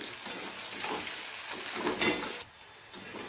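Two medium-sized small onions frying in a pan for Bengali macher jhal, a close, steady sizzle with stirring scrapes, a louder burst near the end before the level drops, no talking.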